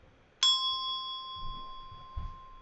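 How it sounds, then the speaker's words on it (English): A bell chimes once to count the hours, a single clear ringing strike that rings on and slowly fades, with faint low thumps after it. "You have to count how many times the bell rings."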